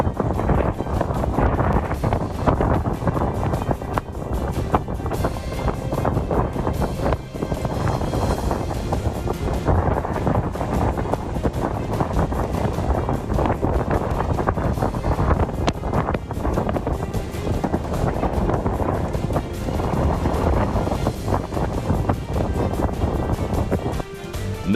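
Strong wind buffets a tour boat out on the water in Maharashtra, a constant loud roar of gusts across the microphone with wave and water noise beneath, steady throughout with no voices.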